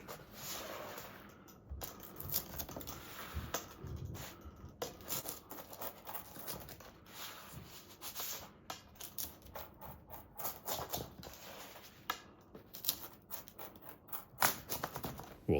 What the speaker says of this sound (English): We'll go ahead and cut some slices.